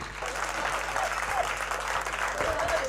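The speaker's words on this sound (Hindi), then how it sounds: "एक बार तालियां बजा दो जरा जोरदार।" Loud, steady audience applause at a Hindi comedy poetry gathering (hasya kavi sammelan), dense clapping sustained throughout with a faint voice briefly underneath.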